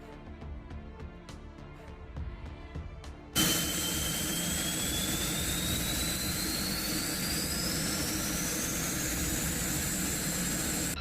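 A low rumble with faint clicks gives way to a fighter jet engine spooling up, its whine rising in pitch and holding at a loud, steady roar.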